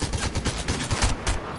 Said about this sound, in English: I'm pulling out with an SMG.